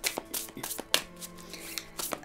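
Rapid riffling and soft slapping of tarot cards being shuffled for a reading, several quick bursts of crisp card flutter close up, with no voices.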